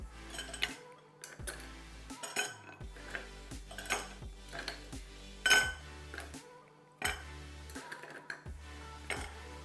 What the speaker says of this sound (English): I'm going to add some ice just to stir it down.